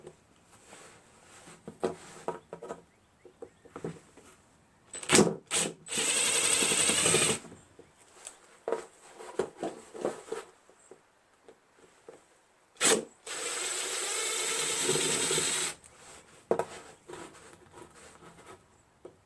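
An impact driver backs Phillips screws out of a Briggs & Stratton opposed-twin engine in two loud sustained rattling bursts, with scattered clicks and handling clatter between them.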